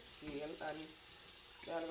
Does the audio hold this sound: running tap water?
yes